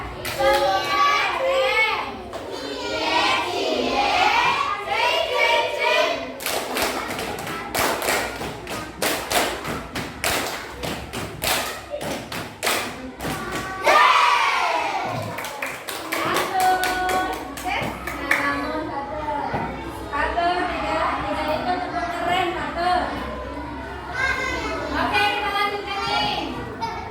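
Fourth-grade schoolchildren in a classroom at an Indonesian Islamic primary school clap their hands in a dense, rhythmic burst of slaps and thuds, mixed with children's voices and a teacher talking before and after.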